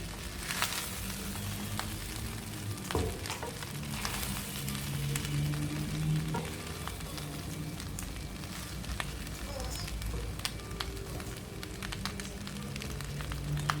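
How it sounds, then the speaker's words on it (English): Coconut fried rice with long grain rice sizzling steadily in a hot pan, a close, continuous crackle and hiss with occasional pops and no talk over it. "So now we're going to let this fry up nicely."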